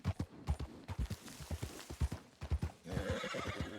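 Horse neighing and whinnying over rhythmic clip-clopping hooves in the WildRP video game, the hoofbeats steady and close and a long, loud whinny rising near the end.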